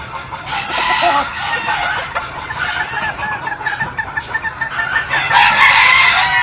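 Gamefowl breeding hens cluck and squawk busily close by on a game farm, with a rooster's crow rising over the flock toward the end.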